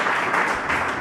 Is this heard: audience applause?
yes